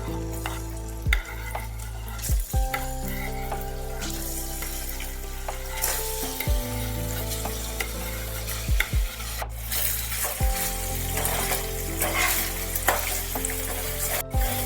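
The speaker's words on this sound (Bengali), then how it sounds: "বাকি পনিরগুলো আমি ভেজে নেব" Paneer pieces frying in mustard oil, a loud continuous sizzle broken by repeated scraping strokes of a spatula against the pan, with sharp knocks every couple of seconds.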